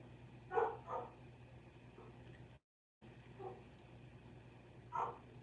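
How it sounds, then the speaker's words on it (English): Dog barking indoors in a room, a few sharp barks near the start and one more later, fairly faint over a steady low hum with a brief dropout in the middle. "Can you hear the dog?"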